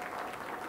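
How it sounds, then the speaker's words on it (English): A conference audience at a general session applauds in a brief, steady patter of many hands clapping, soft and continuous with no voices over it. "I would especially appreciate you guys clapping"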